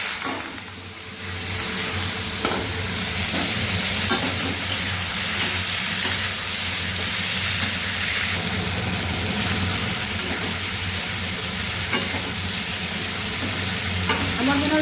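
Boiled papaya hitting hot mustard oil with green chilies in a pan, a loud sustained sizzle and fry that swells after the first second and stays steady and close throughout.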